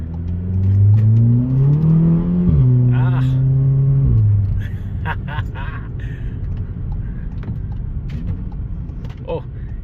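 A Volkswagen Golf 7 R engine revs loudly with rising pitch sweeps through gear changes, then drops to a steady lower drone; a person talks briefly over it.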